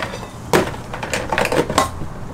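Plastic plates shuffled and stacked among packed camping gear for an overlanding trip in a Land Cruiser 100 Series, a run of close, fairly loud clattering knocks and scrapes.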